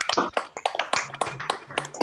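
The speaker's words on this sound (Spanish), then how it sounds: "no sé si podemos prender todos los micrófonos y dar un aplauso" Sparse, uneven clapping over open microphones at a virtual academic induction ceremony, a handful of separate claps and taps scattered across two seconds, close and thin rather than a full crowd.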